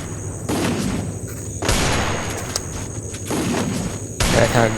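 Repeated M10 gunfire bursts in a Free Fire match, several loud volleys in quick succession separated by short gaps, with a voice talking over the shooting.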